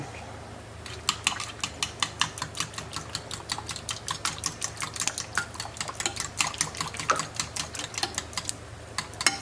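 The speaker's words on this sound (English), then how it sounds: "Mix up 2 eggs. And then I'm going to add 1 cup of buttermilk to that." Rapid, rhythmic clicking of a utensil whisking two eggs with a cup of buttermilk in a bowl, close and steady strokes at a brisk pace over a light background hum.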